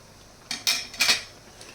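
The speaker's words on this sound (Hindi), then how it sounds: "अब देखिए हम बालूशाही को पलट देंगे, वो बिल्कुल धीमी आंच पर हम फ्राई कर रहे हैं।" Utensil clinking against a pan while balushahi fry over low heat, three or four short close metallic taps in quick succession, then a faint trailing clink.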